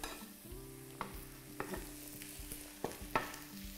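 Vegetables cook in a pan for an omelet, with a soft sizzle under intermittent knocks and scrapes of a utensil stirring, fairly quiet and close.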